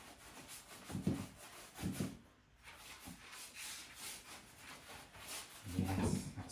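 Wax being rubbed heavily onto the sides of painted furniture, giving soft, close scuffing strokes in irregular bursts, with quieter pauses between them.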